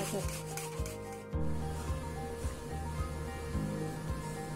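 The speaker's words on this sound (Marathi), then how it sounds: "साल काढलेले बटाटे आपण किसून घेणार आहे" Peeled boiled potatoes are grated for fasting vada (upvasacha vada), a steady rhythmic rubbing and scraping against a grater with regular strokes, close and fairly loud, with no talking.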